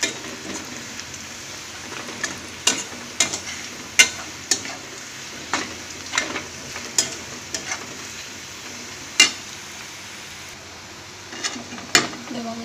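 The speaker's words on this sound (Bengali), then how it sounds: "পেঁয়াজটা পুরো লাল লাল করে ভেজে নেবো" Onions fry in oil until reddish-brown for biryani, a continuous sizzle punctuated by frequent sharp scraping clicks of a spatula against the pan, close and fairly loud, with no voice heard.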